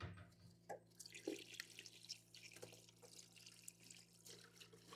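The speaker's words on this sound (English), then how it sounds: "Let me get me a teacup up here and some cold water." Cold water runs from a kitchen tap into a teacup, a quiet splashing and dripping trickle with a steady low hum beneath and no talking.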